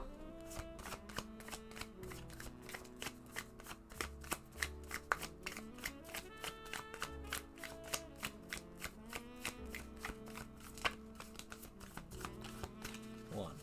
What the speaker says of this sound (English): Oh, I'll show you how I shuffle.